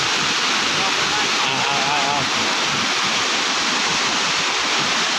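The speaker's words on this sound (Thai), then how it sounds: "น้ำไหลแรงมากตรงนี้" Loud, constant rush of a fast-flowing river current close by, a dense roaring wash that never lets up.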